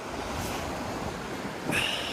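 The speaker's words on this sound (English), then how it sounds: "Listen to the sound of them lovely waves." Surf rolling onto the shore on Cornwall's south coast at Pensioen on a sunny day, a steady wash of broken waves with wind noise, swelling louder near the end as a wave breaks close by.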